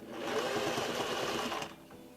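A sewing machine runs steadily, stitching a curved seam on a denim skirt made from upcycled jeans. The motor whirs close and even for about one and a half seconds before slowing and stopping.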